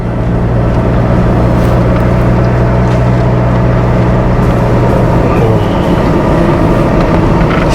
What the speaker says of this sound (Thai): ฟังเสียงเครื่องยนต์ว่า มันคำรามเยอะหรือยัง